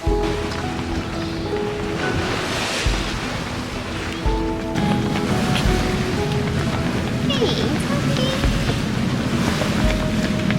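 A restored sailboat under sail on the open ocean on its maiden voyage after years of restoration, with steady wind rushing over the microphone and waves washing against the hull throughout.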